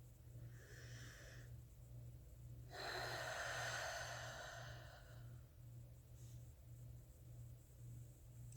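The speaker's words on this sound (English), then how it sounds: "taking a deep breath" A person takes deep breaths, a few slow audible inhales and exhales, the middle breath longest and strongest, soft and close over a faint low hum.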